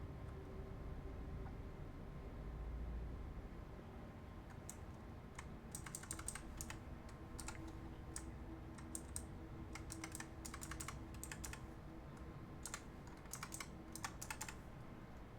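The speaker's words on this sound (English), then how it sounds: "Intense typing." Rapid, intense typing on a computer keyboard, with dense bursts of close clicking key presses over a low steady background hum, continuing for the whole stretch without speech.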